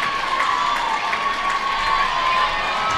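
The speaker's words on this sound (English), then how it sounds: "They're cheering on." Crowd cheering at a high-school cheerleading competition, a steady, loud wash of shouts and cheers from a packed gym filling the whole moment without pause.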